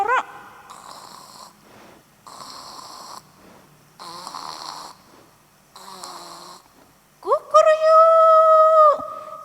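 A voice imitates snoring in a children's Sunday school service, making several rasping snore bursts about two seconds apart, followed by a longer sustained nasal tone.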